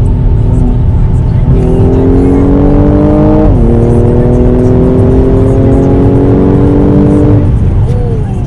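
A Mercedes AMG C43 engine pulls hard on throttle, loud and close, its drone climbing steadily in pitch, dipping briefly, then rising again before easing off near the end.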